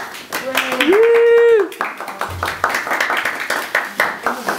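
A few people clap at a meal gathering with clay cookware, the scattered hand claps mixed with voices and a brief sustained whistle-like tone.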